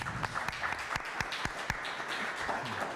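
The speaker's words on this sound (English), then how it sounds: "Let's give a round of applause for Tim." Audience applause after a panelist is introduced at a teach-in on race, law and cultural studies, a steady wash of clapping lasting the whole stretch, moderately loud, with a few sharper individual claps standing out.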